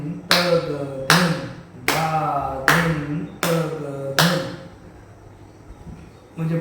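Six sharp, evenly spaced hand claps keep a steady pakhawaj beat at close range, each followed by a ringing, voice-like tone, then a pause before a final clap.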